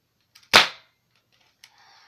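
One sharp airsoft gun shot fired at a paper target, a loud, close crack that decays quickly, followed by a light mechanical click and faint rustling.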